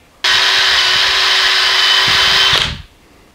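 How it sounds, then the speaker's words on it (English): A power drill whirs loudly and steadily for over two seconds while sanding out wood, then spins down and stops, close by with no talking. "Suppose I could use a drill."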